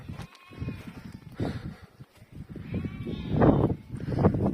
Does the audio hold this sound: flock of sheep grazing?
yes